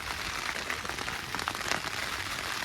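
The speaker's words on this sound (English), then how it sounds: "It's been raining a good while." Steady rain patters on a Terra Nova Northern Lite 2 tent in a storm, a dense, continuous drumming of drops close overhead with no talking.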